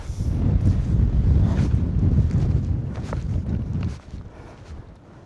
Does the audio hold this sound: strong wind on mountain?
yes